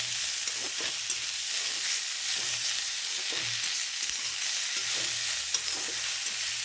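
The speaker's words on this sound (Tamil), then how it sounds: "கொஞ்சமாக வெங்காயம் கொஞ்சமாக தக்காளி எல்லாத்தையும் சேர்த்து நல்லா வதக்கணும்" Onion, tomato and green chilli sautéed in a pan for a chutney, making a constant hissing sizzle with faint, soft stirring taps throughout and no speech.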